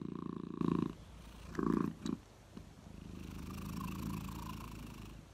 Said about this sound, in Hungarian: Tudtátok, hogy a dorombolás pozitívan hat az idegekre?